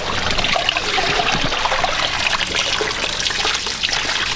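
Soapy water from a DIY coolant flush on an RB engine swap is dumped out, pouring and splashing continuously in a loud, close trickling stream with no voices.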